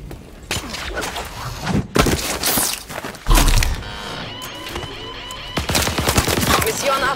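Gunfire in Call of Duty Advanced Warfare crackles in rapid volleys, with sharp shots and heavy thumps layered over background game sounds.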